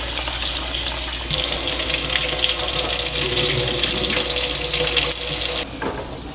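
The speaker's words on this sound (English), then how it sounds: "I like rinsing the starch off of my noodles." Tap water runs steadily into a kitchen sink while ramen noodles are rinsed of starch, a loud, continuous splashing hiss that briefly cuts and drops in level near the end.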